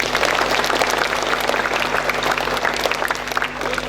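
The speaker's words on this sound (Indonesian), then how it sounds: "Tepuk tangan untuk kita semua." Dense, steady clapping from a crowd at a Monday school ceremony at an Indonesian junior high school, loud and continuous throughout.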